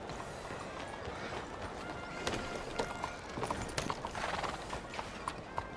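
Horse hooves clip-clop at a steady gait in a Red Dead Redemption 2 game scene, with a faint whinny mixed into soft background ambience, no speech.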